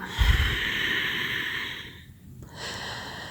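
A person exhales completely during a guided breathing exercise, producing a long, steady, breathy rush of air that thins out briefly near the end before resuming, heard alone and close.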